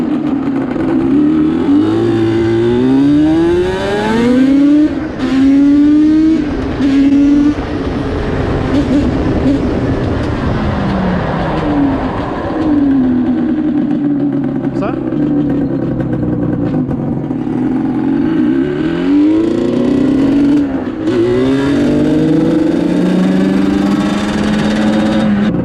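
A Yamaha Banshee 350 two-stroke ATV revs hard on a quick ride, its engine pitch climbing and falling in repeated loud sweeps up close, with a voice briefly heard over the engine.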